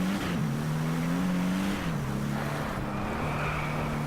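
A turbocharged car engine in the Driveclub racing game drones steadily at high revs, with the pitch shifting up and down slightly as gears change, loud and continuous with a faint airy hiss over it.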